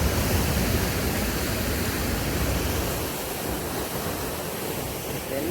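Water rushes through the Mettur 16-gate bridge in a dense, steady, loud roar of broadband noise that barely changes, with no voices.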